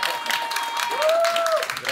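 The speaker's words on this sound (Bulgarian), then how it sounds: "Аплодисменти за Иван." An audience applauds Ivan Shopov as he comes onto the stage at a live event: a steady wash of clapping from the crowd over two seconds, mixed with a thin sustained tone and some background voice.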